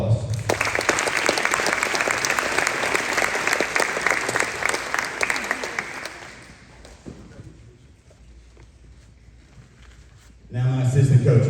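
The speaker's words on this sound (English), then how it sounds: "So I want to give those ladies a big round of applause." A big round of applause at a high school sports awards night fills the room with dense, loud clapping that fades out around six seconds, leaving a lull before a fresh burst of clapping.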